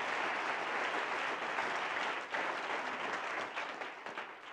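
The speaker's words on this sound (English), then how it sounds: "Let's clap the hands of the Lord." Congregation at a sermon claps together in a sustained, fairly distant wash of applause that slowly thins and breaks into scattered claps near the end.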